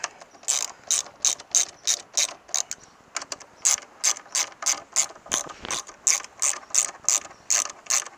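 A ratchet loosens brake caliper bolts during a front brake pad change. Crisp clicking bursts repeat in quick, even strokes, close up, with a short break before a second run of ratcheting.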